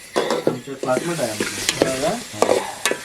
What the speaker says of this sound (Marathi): गोडा मसाला फ्राय करून घेतला आहे